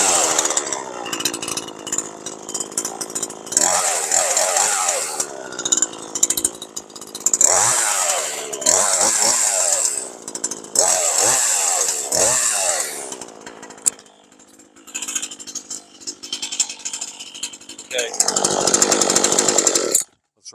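Dolmar PS-420 chainsaw cutting invasive Asian bush honeysuckle, its engine revving up and dropping back repeatedly in close, loud bursts, with a quieter idling stretch midway.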